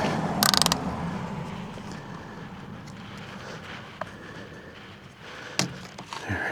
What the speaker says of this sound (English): We're going to unhook the strap here. It's a little quick strap.